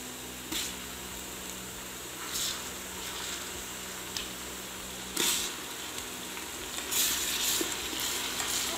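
Onions frying in a pan with ginger-garlic paste for mutton masala gosht, a soft steady sizzle with occasional louder spits and stirring scrapes, close and alone.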